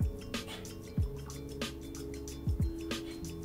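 Di Saronno amaretto liqueur is poured into a small measuring jigger, heard as a few soft, close drips and trickles spaced irregularly over a quiet background.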